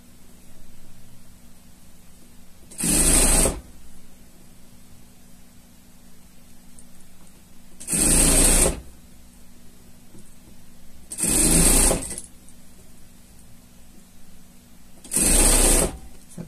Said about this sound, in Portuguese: Vai esticar a ribana, deu certinho aqui, a gente ajeita e vai costurando